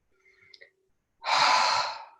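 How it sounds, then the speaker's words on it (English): A single deep inhalation during a guided healing meditation, close and clear, a steady rushing breath lasting about a second after a few faint soft sounds. "And take a deep breath in."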